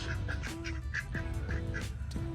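Farm ducks honk and quack repeatedly in quick, close bursts, a steady run of nasal calls over low background noise.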